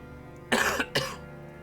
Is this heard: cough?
yes